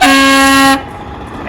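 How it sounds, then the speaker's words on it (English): A vehicle horn gives a single loud, sustained honk of under a second during a corn harvest, then cuts off abruptly and leaves quiet background noise. "And some horn honkers."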